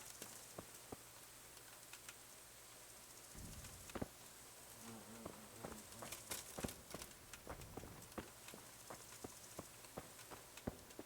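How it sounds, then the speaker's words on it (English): Insects buzz faintly in a quiet outdoor scene in the video game Kingdom Come: Deliverance, with scattered ticks and clicks and light rain-like patter over a soft background drone. "Bicho cantarolando."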